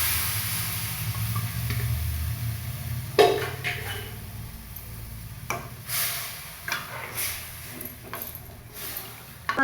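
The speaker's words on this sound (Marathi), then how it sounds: "शिजलेलं मटण टाकूया." Cooked mutton added to hot oil with fried coriander for a village-style mutton curry, a soft sizzle with bursts of stirring, pot clatter and scraping, fairly quiet and without talk.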